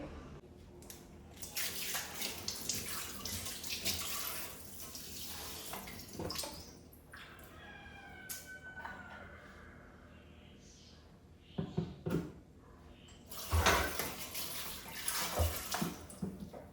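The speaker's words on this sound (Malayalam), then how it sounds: "അപ്പോൾ കയ്യോടെ ഞാൻ ആ പാത്രം കൂടെ അങ്ങ് കഴുകി വെക്കട്ടെ." A dish washed under a running kitchen tap during a cleaning session, with bursts of flowing water, splashes and clinks, quieter stretches in the middle and louder gushing near the end.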